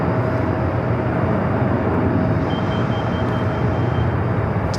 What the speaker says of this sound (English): Next arrival is Southwest Airlines Flight 1467 coming up from Tucson, Arizona, 737-700